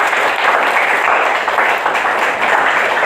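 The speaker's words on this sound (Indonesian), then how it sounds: "Tepuk tangan dulu dong." Students applauding in a classroom during a tax administration lesson, a loud, continuous burst of clapping filling the room without pause.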